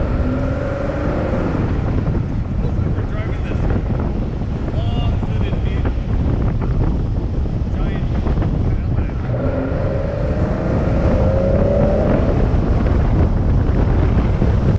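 Wind roars steadily past an open Jeep Gladiator Mojave with its doors, top and windshield removed while driving, a loud continuous rush buffeting the microphone throughout.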